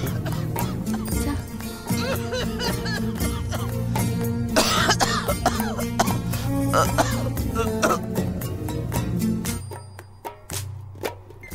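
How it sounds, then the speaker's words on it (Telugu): A person coughs over and over in harsh, rapid bursts, with some throat clearing, loud and close, before things quiet down at the end. "పదే పదే దగ్గుతూ మాకు నరకం చూపిస్తున్నారు"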